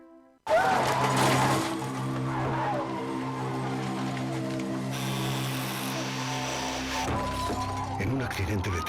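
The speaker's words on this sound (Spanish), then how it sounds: "En un accidente de tráfico" A car skids with a loud, sustained tire squeal and engine roar in a traffic accident, ending in a crash with shattering glass and metallic impact.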